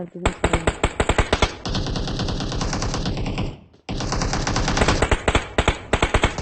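Rapid automatic gunfire from the mobile battle-royale game PUBG Mobile rattles in loud bursts with a brief pause near the middle, firing close and dense, with player chatter mixed underneath.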